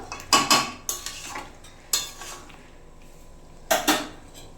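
A spoon stirring mutton and potato curry in a pot, with a few sharp clinks and scrapes against the metal at irregular intervals and quiet pauses between them.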